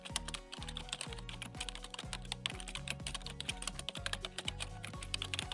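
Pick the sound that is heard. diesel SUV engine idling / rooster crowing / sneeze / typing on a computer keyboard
typing on a computer keyboard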